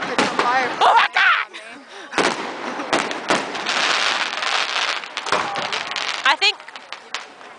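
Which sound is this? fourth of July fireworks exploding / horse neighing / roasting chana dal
fourth of July fireworks exploding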